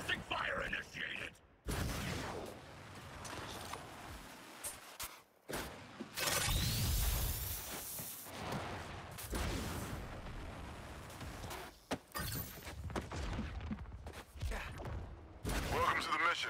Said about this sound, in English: There's suppressing fire initiated!